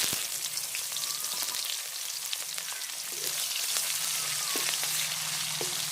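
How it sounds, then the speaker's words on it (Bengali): Chopped onions, slit green chilies and bay leaves fry in hot oil in a pan, giving a continuous close sizzle with scattered pops and light spatula scrapes, and no one speaks. "তো আমি এভাবে কিছুক্ষণ ভেজে নেব।"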